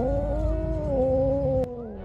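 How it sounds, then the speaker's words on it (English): An angry pregnant cat cornered inside a house gives a long, loud, drawn-out caterwauling yowl, wavering in pitch and close by, with no talk. "they had to deal with a very angry pregnant cat that had got into one man's house"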